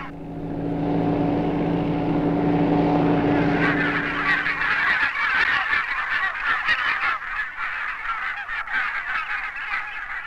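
Barnacle geese (Branta leucopsis) honking in a flock, many overlapping calls rising after a steady low engine-like drone fades out midway.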